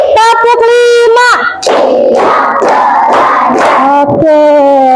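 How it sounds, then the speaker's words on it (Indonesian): A class of children does a group clapping routine, a busy stretch of rhythmic hand claps mixed with loud unison shouting, chanted voices opening and closing the burst. "Kita tepuk konsentrasi dulu ya, tepuk konsentrasi."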